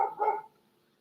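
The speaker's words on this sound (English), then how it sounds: "a very loud dog barking in the background" A dog gives a loud double bark, two quick close woofs in the first half-second before fading into quiet.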